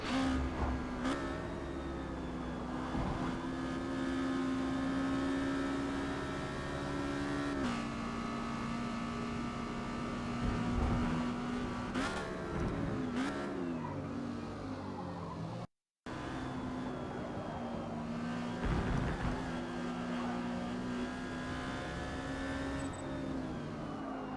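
A Exocet race car in Forza Motorsport lapping Laguna Seca in B class, its engine holding a steady droning tone that rises and falls through gear changes and corners, loud and continuous with one brief dropout.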